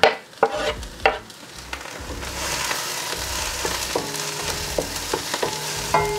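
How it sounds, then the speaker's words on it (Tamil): Chopped garlic, ginger and green chillies sauté in a pan with a continuous sizzle, broken by sharp clanks of a spatula against the metal at the start and repeated stirring knocks later. "அதை நல்லா சேர்த்து வதக்கணும்."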